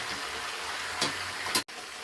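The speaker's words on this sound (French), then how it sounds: "je tourne mon poisson, comme vous voyez" Fish frying in hot oil for Senegalese thieboudienne, a steady close sizzle with two brief louder crackling bursts as the fish is turned over in the pan.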